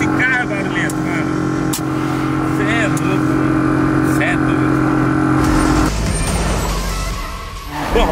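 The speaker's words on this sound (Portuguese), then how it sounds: "Olha aqui, esse carro é barulhento." A loud Fiat Uno engine idles and drones steadily close by in a workshop, with a hissing mechanical whine layered over it and a voice talking across the noise.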